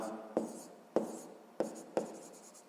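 A pen writes a short problem statement on paper in four quick, crisp scratching strokes, each a sharp tap followed by brief scraping, close and quiet, with no talking.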